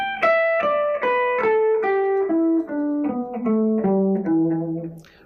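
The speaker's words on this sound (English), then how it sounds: "we're going to take that scale and play it 5 notes down at a time" Electric guitar runs a pentatonic scale downward in five-note groups, clean sustained single notes stepping lower in a steady rhythm, close and alone.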